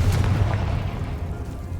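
A Confringo fire spell bursts in the Hogwarts Legacy video game, a single deep, booming blast whose heavy low rumble rolls on and slowly fades, with no talking over it.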